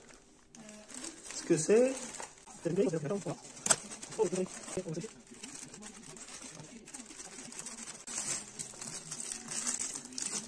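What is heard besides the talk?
crinkling packaging being unwrapped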